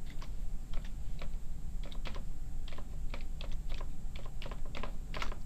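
Steady, close keystrokes on a computer keyboard as a chart title is typed in a spreadsheet, irregular clicks in quick runs over a faint background hiss, with no voices.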